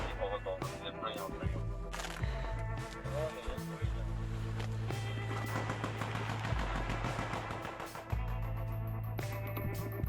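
Gunfire in close trench combat, with bursts of sharp shots and rapid machine-gun rattle spread across the scene, loud and near, broken by brief pauses, with voices heard in between.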